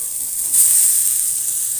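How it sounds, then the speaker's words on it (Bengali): Boiled potato with Kashmiri red chili and salt frying in a hot pan, a close, steady hiss and sizzle that swells briefly partway through. "এবার এটা আমি ভালো করে ভেজে নেব।"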